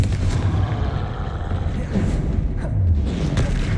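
A Confringo spell explosion in the video game Hogwarts Legacy booms out as a dense, continuous blast of noise, loud and close, with rumbling bursts layered throughout.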